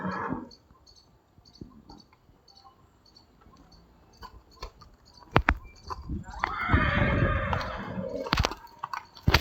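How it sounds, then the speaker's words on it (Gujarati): A horse in Junagadh led out of its stall gives a couple of sharp neighs among scattered hoof clops and shuffling, with a longer loud whinny building toward the end over faint insect chirps. "મિત્રો ઘોડાને કાઢે છે શ્વેતભાઈ બહાર."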